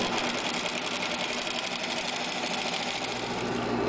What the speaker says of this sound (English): And then we're going to stitch around once.